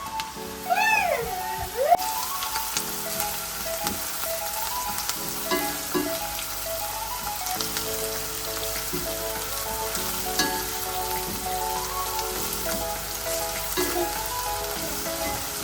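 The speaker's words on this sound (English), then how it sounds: "Heat your pan and add in some cooking oil. Then add the onions." Onions sizzle steadily in hot cooking oil in a pan, a continuous close crackling hiss that runs throughout, with a tonal sweep and faint musical tones layered over it.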